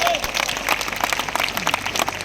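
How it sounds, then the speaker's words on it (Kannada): A crowd at a Christmas festival gathering claps loudly and rapidly in a burst of applause, with a voice speaking over the clapping. "ಗಟ್ಟಿಯಾದ ಚಪ್ಪಾಳೆ, ಗಟ್ಟಿಯಾದ ಚಪ್ಪಾಳೆ."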